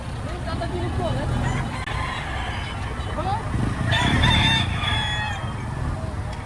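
A rooster crows twice in a row, loud and close, over a low rumble of background noise, with someone talking nearby.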